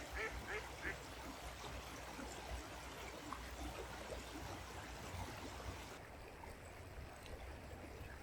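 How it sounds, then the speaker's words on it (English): A small duck under a bridge in a wooded ravine gives a few quacks at the start, set against a steady, loud wash of flowing stream water. "There's a cool duck there."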